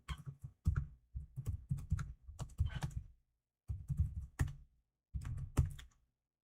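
Someone types on a computer keyboard in quick clattering bursts separated by short pauses, heard close and dry with no talking.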